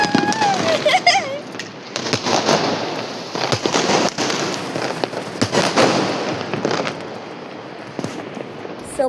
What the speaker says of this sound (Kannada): ಸೊ ಪಟಾಕಿ ಎಲ್ಲ ಹೊಡೆದಾಯ್ತು